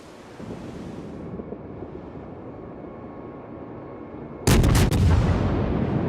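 Naval gunfire in the World of Warships video game: a low wind and sea wash gives way to a sudden loud, rapid cluster of cannon shots followed by a sustained roar.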